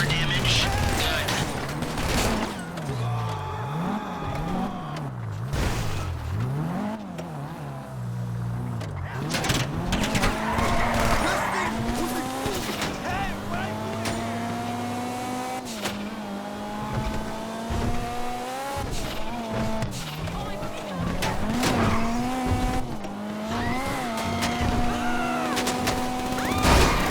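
A getaway car in a GTA Online Fleeca bank heist on PS4: its engine revs and whines continuously, pitch rising and falling with acceleration, and tires squeal and skid at times, with a voice speaking over it.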